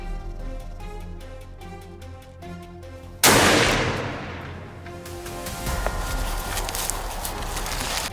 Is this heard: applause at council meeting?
no